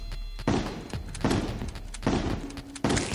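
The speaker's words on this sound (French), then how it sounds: "je sors le fusil à pompe" The Boomstick shotgun fires in Terraria, four loud, punchy blasts spaced about a second apart, each with a short decaying boom over quiet game ambience.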